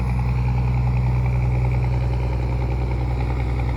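A river launch's engine chugging at a steady idle-like throb, loud and close, continuous with no voices.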